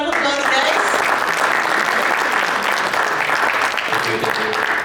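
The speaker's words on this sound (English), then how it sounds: "Let's give him a round of applause" A college networking event audience claps in a steady round of applause filling the room, loud and sustained, with some voices mixed in.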